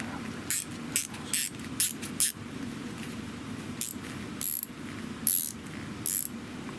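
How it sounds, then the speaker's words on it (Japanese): An SK11 swivel ratchet wrench clicks in quick close bursts with short pauses between them. The clicks are crisp and sharp over a faint background hum. "この SK11 のスイベルラチェットはね、とても便利なので、最近ね、よく使いますね。"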